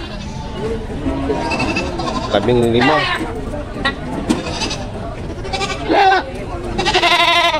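Several goats bleat repeatedly at a livestock auction in Padre Garcia, Batangas, loud and close, their wavering cries overlapping with people talking nearby.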